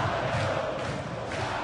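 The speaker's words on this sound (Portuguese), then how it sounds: "Olha aí a torcida do Coxa" Coritiba (Coxa) supporters in a Brazilian football stadium against Flamengo, a brief loud burst of massed crowd chanting and cheering, dense and continuous.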